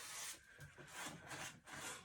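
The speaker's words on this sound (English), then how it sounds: "I'm just going to catch the edges with the sanding sponge." A sanding sponge rubs back and forth along the wooden edges of a vintage blanket box in steady, soft rasping strokes, close up with no voices.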